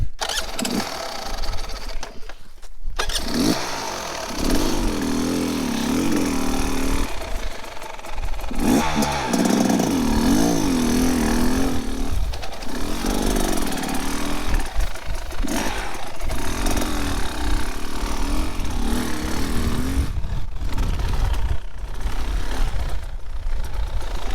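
A 2024 Beta Xtrainer 300 two-stroke trail motorcycle revs while being ridden, its buzzy engine rising and falling in repeated throttle bursts with brief drops, close and loud over rough wind noise, no talk.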